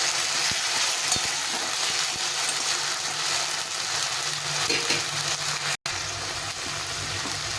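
Spice paste sizzles and fries steadily with browned onions in a pan, a loud continuous hiss with a few stirring knocks, heard on its own without talk.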